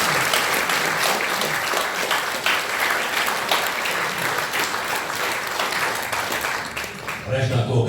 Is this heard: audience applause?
yes